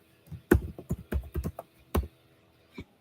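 Keys clack on a computer keyboard in an uneven run of a dozen or so close, fairly loud taps with short gaps between them, ending on one last isolated stroke, no talking.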